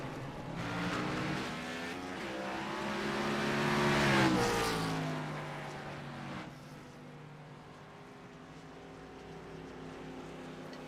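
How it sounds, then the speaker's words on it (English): Race cars at a North Wilkesboro stock-car event come down pit road, a loud layered engine drone with shifting pitches that swells to a peak and then drops to a steadier, softer rumble. "We're going to see a bunch of cars on pit road."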